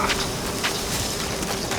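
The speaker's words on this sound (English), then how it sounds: "Frickin' bees, wasps," Bees or wasps buzzing in The Witcher 3: a continuous, close insect drone with a steady hum, holding at an even level throughout.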